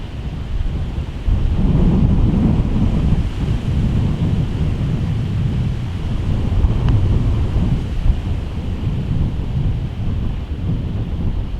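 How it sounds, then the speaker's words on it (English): Rain falls on a golf course, a steady broad wash with low rumbling gusts of wind buffeting the microphone throughout. "The rain starts to come in again."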